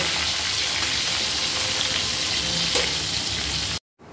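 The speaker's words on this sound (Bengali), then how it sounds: "পটল ভাজাটা করে নেব।" Potol, or pointed gourd, sizzling in hot oil, a close and constant crackling hiss with one brief clink near the end before a sudden cut to silence.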